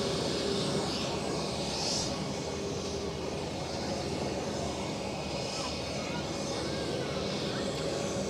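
An Air France airliner taking off at Zurich Airport produces a faint, distant, continuous jet roar that holds steady throughout.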